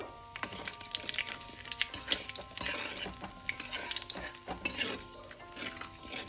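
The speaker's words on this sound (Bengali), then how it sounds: "ফোড়নে দেখো আমি কি দিচ্ছি, কালো জিরে আর সর্ষে" Nigella and mustard seeds fry in hot oil in a wok, a steady crackling sizzle with sharp pops and a spoon scraping and stirring through it, close and moderately loud with no talk.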